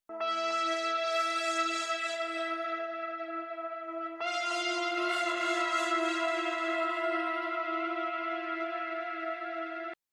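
Drifty Component, a synth preset from Arturia Pigments, plays two long held chords, each with a bright bell-like strike that settles into a rich sustained harmonic tone, clear and unaccompanied for about ten seconds.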